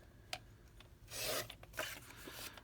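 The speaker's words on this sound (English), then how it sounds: "I'm going to trim it off at the bottom edge." Paper images for an accordion envelope journal are trimmed along the bottom edge, giving faint, quick scraping and cutting rasps in short bursts, close by and quiet.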